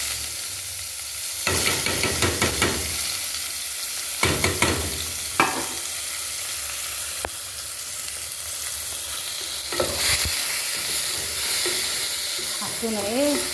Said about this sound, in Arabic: طبعا هنحط معاكم البصل اهو يا حبايبي.